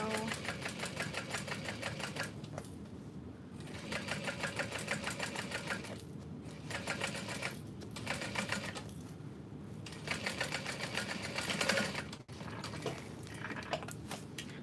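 A sewing machine stitches fabric for a custom-ordered Lola piece, running in steady bursts with short pauses between seams, close and fairly loud with light handling noise.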